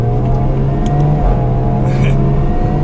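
A 2021 Jaguar F-Type V6 drones steadily and loudly from close by as it takes quick turns, its engine hum holding constant without breaks or voices.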